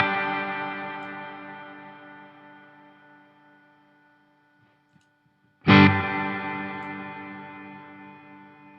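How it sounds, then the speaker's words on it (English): A NUX Atlantic pedal's reverb trails ring out and slowly decay after the effect is bypassed, then a fresh strummed guitar chord sounds loudly and washes out into a long reverberant tail, with no talking. "So this is what the reverb sounds like with the spillover."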